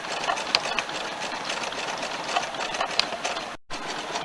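An embroidery sewing machine runs a satin stitch around an applique patch on a quilt, a fast continuous whirring hum with faint ticking accents, broken by one brief silent gap near the end.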